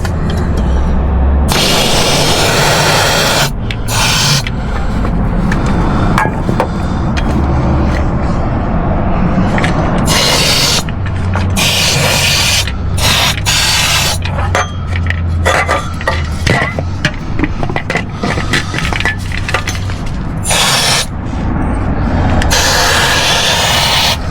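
Short bursts of hissing compressed air spray on and off in an irregular rhythm, loud and close, with occasional light clinks between them.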